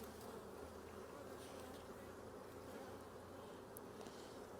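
Calm honeybees hum around an open hive during an inspection, with a continuous, soft, even buzzing and no other sounds.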